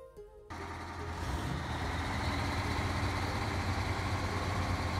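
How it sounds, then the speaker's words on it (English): A truck engine in SnowRunner starts abruptly and keeps running with a steady, loud low rumble close by, lasting several seconds after a brief quieter opening. "just relax and hear the sound of the engine"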